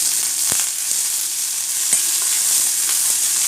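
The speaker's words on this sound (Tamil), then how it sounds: "ஒரு வெங்காயம் கருவேப்பிலை பச்சை மிளகாய் இதை நம்ம வந்து வதக்கிக்கலாம்" Onion, curry leaves and green chilli sautéing in a pan for ragi kozhukattai, giving a continuous sizzle broken by a few sharp spatula taps and stirring clinks, close and alone.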